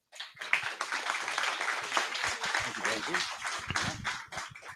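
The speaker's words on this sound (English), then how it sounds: "Please give a round of applause to Dave Maynard." An audience claps and applauds in a dense, sustained burst that builds and then tapers off near the end.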